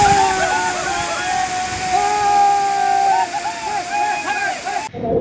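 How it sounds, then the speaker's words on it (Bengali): A waterfall on the Harishchandragad trek in Maharashtra pours with a steady rushing roar while people shout and play beneath it, and voices ring out over the water before the sound cuts off abruptly. "সামনে দেখতে পাচ্ছি একটা ওয়াটারফল আছে, তার নিচে সবাই মজা করছে"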